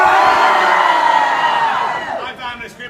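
A live audience at a World Showcase Players street comedy performance of Romeo & Edna screams a loud battle cry together, a dense roar of many voices that swells and then fades over a few seconds.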